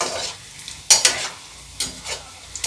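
Raw banana koftas frying in oil in a pan over a medium flame, with a few short scraping stirs of a spoon against the pan over a soft, steady sizzle, close up and with no talking.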